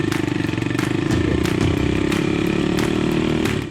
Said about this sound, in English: taking these little Rakal 125cc dual sport bikes up the rough road to the Treasure Mountain campsite in Tanay, Rizal